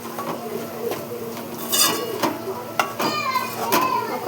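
A spoon stirs chilli powder and salt into Telangana-style ivy gourd curry in a hot pan, with close metallic clinks and scrapes over a soft sizzle, and a faint voice now and then.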